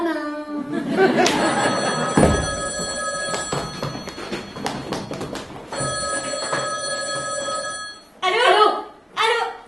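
A telephone rings repeatedly with a steady electronic bell tone at close range, each burst sustained with brief gaps, while people talk and laugh around it during an office meeting scene in a French stage play.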